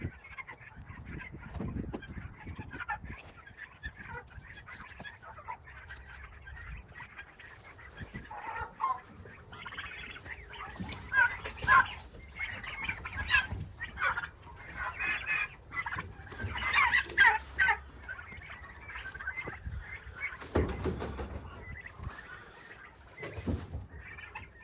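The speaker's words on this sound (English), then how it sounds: "Here's a quick time lapse of all the turkeys coming out." Pasture-raised turkeys clucking and chattering as a flock leaves their shelter and comes down a ramp outdoors, a continuous mix of overlapping calls that rises and falls and grows busier toward the middle, with no one speaking.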